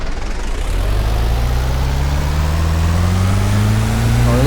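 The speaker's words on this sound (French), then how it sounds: "le moteur de cette voiture là est bien, mais c'est la moteur de base d'une voiture d'une voiture réelle" A car engine idles in a desert driving video game, giving a steady low rumble with a gently rising tone, close and loud throughout, with no talk.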